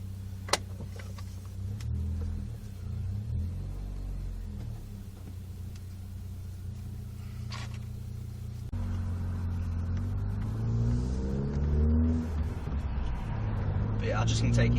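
Vauxhall Astra Mk4 SXi engine idling, then pulling away on a gentle drive with a low steady rumble that rises as the car moves off, and a voice speaks over it.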